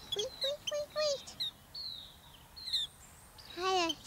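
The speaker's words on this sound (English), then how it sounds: "Hi, little birdie." Cartoon little bird chirping in a children's animal-themed show: a series of short, high, bright tweets and trills in quick bursts, close and clear, with a brief pause before a final rising chirp.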